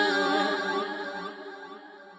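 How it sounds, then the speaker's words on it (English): A sung vocal word processed with a phaser and delay in Pro Tools rings out alone, its harmonic tone swirling and smearing into a fading echo tail. "So I'm making it weird with the phaser,"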